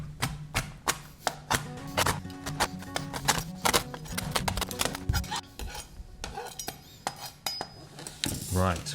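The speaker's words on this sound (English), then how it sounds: "let's take some of our mini SKOR pieces, chop those up." A knife chops mini SKOR bar pieces into small bits on a board, a run of sharp, close, rhythmic knocks and clatters with irregular pauses and no talking.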